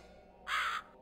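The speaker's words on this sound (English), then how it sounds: "Bird!" A single crow-like caw from a bird in the video game Master Reboot, one short harsh call of about a third of a second, close and clear against a quiet background.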